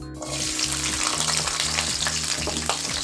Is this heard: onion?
yes